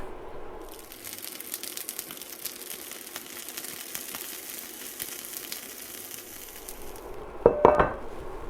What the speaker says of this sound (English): we'll let this steam for about another 3 or 4 minutes, just until it's tender and cooked through